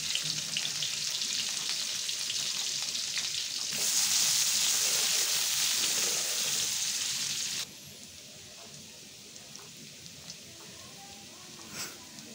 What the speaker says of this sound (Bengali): এবার পেঁয়াজটাকে একটু লাল করে ভেজে নেব।